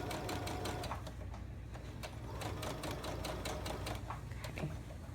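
A sewing machine stitches a pillow seam in a continuous rapid needle chatter, fairly quiet and steady, with faint background hum and no voices.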